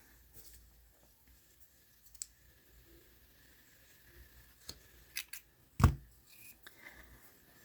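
Scissors snip crochet yarn while making a baby sandal, a few sharp isolated clicks and one louder cut against a quiet background.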